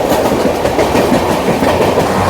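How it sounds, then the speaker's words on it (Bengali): The Kolkata–Darbhanga Express runs at high speed, giving a loud, dense rumble heard from on board with a continuous rhythmic clatter of wheels over the rails and no voices. "আরও গতিতে ট্রেন ছুটছে দেখুন"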